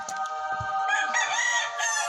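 A rooster crows once in a chicken-fighting mobile game, a loud, close cock-a-doodle-doo that rises and holds through its long wavering call, heard clearly on its own with no talk over it.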